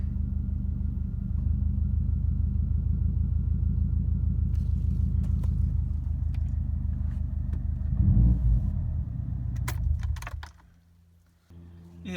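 A car engine idles in a steady, loud low rumble during an oil change, with a few clanks and knocks toward the end before the engine note drops away; no talking.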